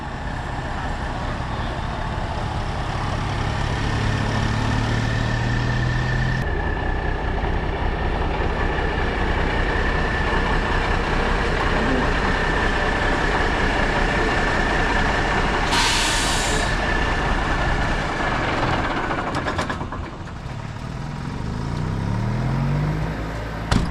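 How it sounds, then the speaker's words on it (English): Restored Peterbilt 359 truck rolling up to a judges line at a truck show, its diesel engine droning steadily and loudly throughout, with a brief hiss of air and a shift in the engine note near the end. "the first truck is pulling up to the judges line"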